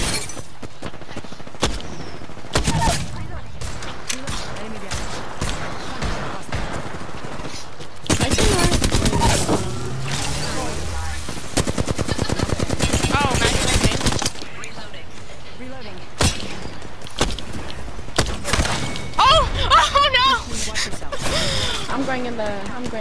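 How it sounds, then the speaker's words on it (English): Automatic and burst gunfire from an Apex Legends match, loud and repeated in clusters with short gaps, mixed with mechanical clacks of reloading and game effects across the whole stretch. "Opening fire."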